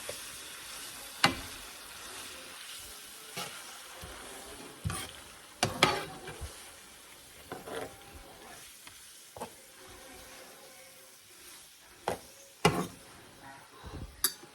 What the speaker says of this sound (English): So I put that in and I'm stirring it around.